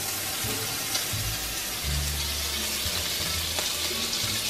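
Food sizzles and crackles steadily in a hot pan, a constant hiss with occasional pops and low clanks of cookware, no talking.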